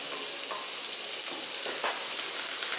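Sliced garlic and chopped white onion fry in olive oil, a steady bright hiss of sizzling with faint crackles and small stirring scrapes, close and continuous, no voices.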